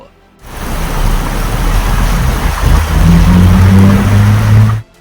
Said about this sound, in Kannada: ಇನ್ನೊಂದೆಡೆ ನೆರೆಯ ತೆಲಂಗಾಣದಲ್ಲೂ ಮಳೆ ಅಬ್ಬರಿಸಿದೆ